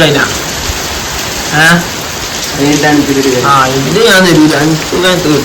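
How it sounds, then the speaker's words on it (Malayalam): Heavy rain pours down in a constant dense hiss, with several voices talking loudly over the downpour. "ഭയങ്കര മഴ"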